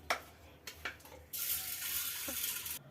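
Toor dal is washed in water: a few sloshing splashes, then a steady rush of tap water pouring for over a second before it cuts off, all close and fairly quiet.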